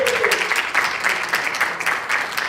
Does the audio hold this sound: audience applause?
yes